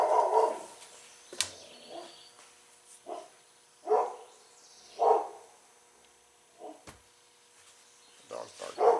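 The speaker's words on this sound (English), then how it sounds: "Dog's barking." A dog barks in repeated short bursts at an irregular pace, moderately close, with a couple of sharp clicks between the barks and no talk over them.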